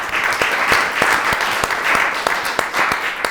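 Audience applause at a panel event on arts and education, a moderate crowd clapping steadily with some sharper individual claps standing out.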